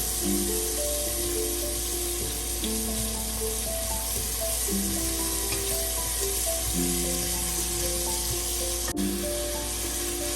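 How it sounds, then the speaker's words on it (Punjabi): Chopped onions frying in oil until golden on medium gas, the start of a tadka for a round squash curry; a steady, moderate sizzle runs throughout beneath background music. "ਪਿਆਜ਼ ਅਸੀਂ ਸੁਨਹਿਰੀ ਹੋਣ ਤੱਕ ਭੁੰਨਾਂਗੇ ਜੀ"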